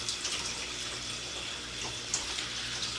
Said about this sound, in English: I'll let the hose here sucking water